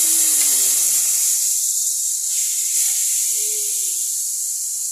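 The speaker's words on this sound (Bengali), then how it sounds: "দাদাভাই মাছ ভাজছে" Fish sizzles in hot oil in a wok, a loud, continuous frying hiss that fills the whole moment without letting up.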